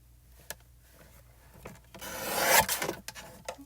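Wood pieces being cut to size with a hand saw: a few soft taps, then one rising, rasping saw stroke that peaks and fades, close by in a quiet room.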